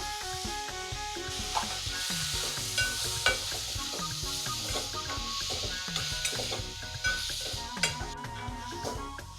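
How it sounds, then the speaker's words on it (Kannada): Tomatoes dropped into frying onions in a home kitchen pan, with a steady sizzle under repeated scraping and clinking of a spoon stirring against the metal pan, close and continuous. "ಈ ತರ ಆದಾಗ ನಾವು ಟೊಮೆಟೊ ಹಾಕ್ತೀವಿ."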